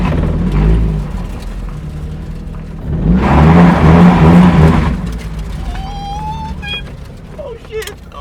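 An EcoTec-swapped Mazda Miata taking off on gravel in an alley, a low idle swelling into a loud revving launch for about two seconds before easing off, followed by a fainter whine and light scattered sounds.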